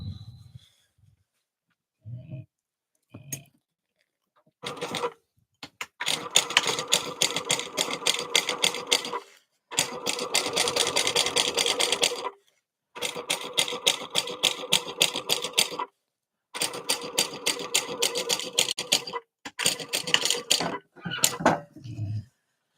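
A sewing machine topstitching a passport wallet runs in several sustained bursts of rapid mechanical stitching, loud and close, separated by short pauses and a few handling clicks.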